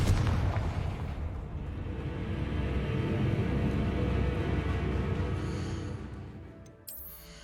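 A Confringo spell blast in Hogwarts Legacy sets off a heavy, deep rumbling explosion that booms loudly and then slowly fades over several seconds, ending with a brief sharp crackle.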